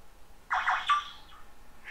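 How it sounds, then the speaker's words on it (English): A phone rings in the middle of a Minecraft server play session, giving a short electronic ring burst that starts suddenly, fades, and is followed by a fainter tone, with no talking over it. "Dang phone!"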